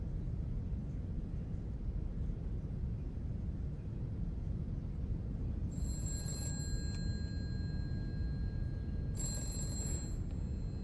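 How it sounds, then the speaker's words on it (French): An electronic telephone ring from a Silent Hill game sounds in two short bursts several seconds apart, over a steady low rumbling ambience with wind and no talking. "Téléphone, de temps en temps."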